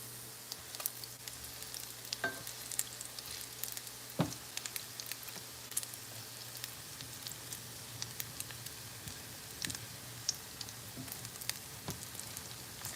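Salmon croquettes fry in a pan, giving a steady close sizzle and crackle throughout with scattered sharp pops and spits, no voices.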